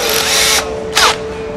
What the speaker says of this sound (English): With a cordless drill,